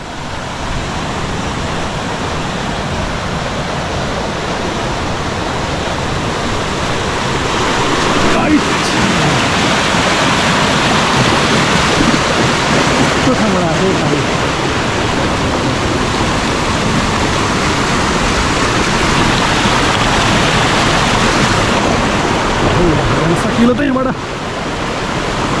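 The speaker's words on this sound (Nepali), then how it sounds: "पानी चाहिँ यस्तो ठाउँबाट बगेर आएको छ यहाँ" Water flowing through a cave into a pool in Pokhara, a steady broadband rush that fills the space continuously for the whole stretch, loud and close, with faint voices now and then.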